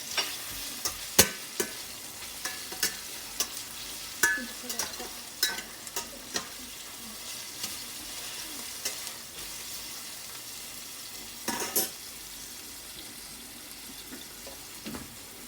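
Salted fish and onions fry in a pan while being stirred, a soft constant sizzle broken by repeated sharp scrapes and clatters of the utensil, close and irregular, with no talking.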